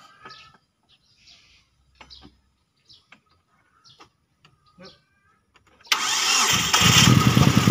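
A Hyundai Santa Fe left unused for a year in a garden, starting up after several seconds of quiet with birds chirping, the engine catching abruptly and running loud and rough near the microphone.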